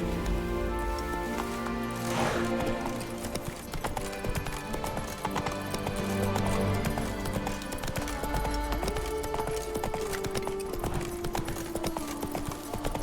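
Roach the horse's hoofbeats in The Witcher 3 game, a steady galloping clip-clop that runs the whole way through, loud and close. Music or ambience plays beneath, with a faint voice now and then.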